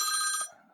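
An incoming call sets a phone ringing: a bright electronic trill for about half a second, then it cuts off, leaving a faint low rumble.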